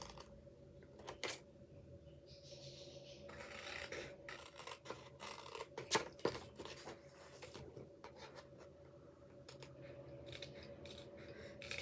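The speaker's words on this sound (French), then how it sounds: "Je vais prendre ce morceau-là que je vais découper." Scissors cut through paper for a Christmas rose album, a series of close, crisp snips and rustling paper strokes, irregular with short pauses, over a faint background hum.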